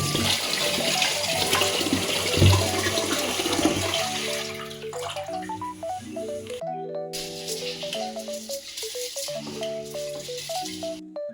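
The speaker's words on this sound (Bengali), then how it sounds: "চালটা ধুয়ে নিচ্ছি ভালো করে।" Rice is washed by hand in water in a home kitchen, with close splashing and swishing for a few seconds before melodic background music takes over.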